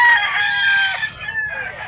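A yellow-legged gamefowl rooster crows loudly and close at a gamefowl market, one drawn-out call lasting nearly two seconds with a slight break in the middle.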